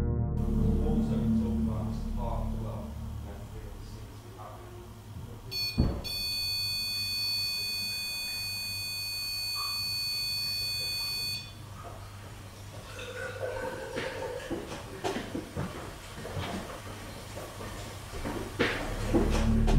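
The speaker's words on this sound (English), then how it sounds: "as soon as the alarm on the REM pod stops" A REM pod paranormal detector gives off a steady high electronic alarm tone lasting several seconds in a quiet hotel room before abruptly cutting out, followed by scattered clunks and handling noises.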